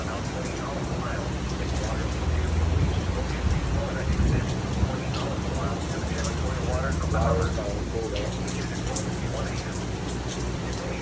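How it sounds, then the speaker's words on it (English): Heavy rain with hail during a Florida thunderstorm, a dense steady hiss and patter on surfaces with low rumbling thunder rolling underneath, loud and sustained throughout. "So we have hail right now and rain."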